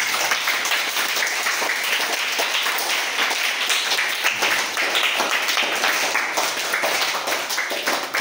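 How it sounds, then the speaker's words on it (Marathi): Loud, steady applause from a classroom of students after a student's speech, dense clapping filling the whole stretch without pause. "जोरदार टाळ्या."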